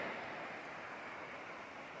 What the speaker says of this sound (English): River down below us.